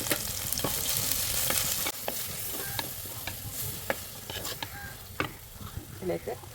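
Sliced onion fries in oil with mustard seeds and garlic in a pan, a steady hiss broken by repeated scraping strokes of a spoon stirring, then quieter sizzling with scattered clicks and taps.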